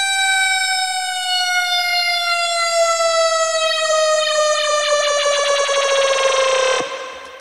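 A synth tone in Ableton glides slowly downward in pitch under a bend, bright and harmonically rich, holding steady and loud before stopping abruptly near the end.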